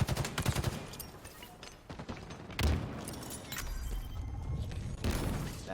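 Rapid automatic weapon fire in a Halo ranked Slayer match on the Catalyst map crackles in bursts with sharp cracks and impacts, moderately loud and continuous over the clip.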